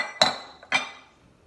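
Two sharp metallic clinks of a utensil striking a pot while long grain rice is stirred, close and brief with short ringing tails.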